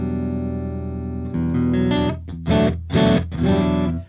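Electric guitar played through a clean channel with an 80s-style spread effect: a sustained chord rings first, then several strummed chords ring out wide and shimmering, loud and alone.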